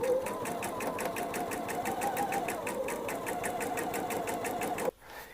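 Domestic sewing machine stitching a dress hem, a steady fast rhythmic chatter held close for nearly five seconds before stopping abruptly, with no talk over it.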